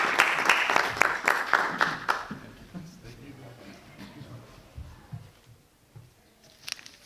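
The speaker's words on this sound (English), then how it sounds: "please give him a round of applause for being here, as Mr. Doug Peterson." Audience applause at a live civic get-out-the-vote event fills the first two seconds as a dense burst of clapping from a room full of people, then quickly fades into a quiet hall murmur.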